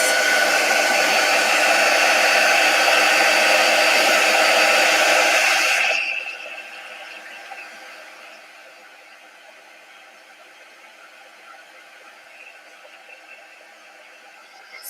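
Hair dryer blowing loud and steady while drying a faux macrame wall hanging made with chalk paint, running for about six seconds before cutting off and leaving a quiet, faint room background.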